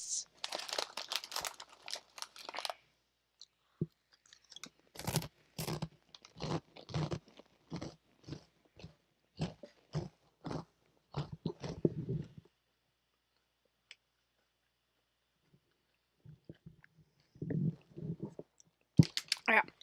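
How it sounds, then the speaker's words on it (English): A person chewing food close to a headset microphone, producing repeated crunchy, crinkly bites in rhythmic runs, with pauses and occasional speech in between. "I'm trying to get my like headphone like away from my head so you can't hear me chewing"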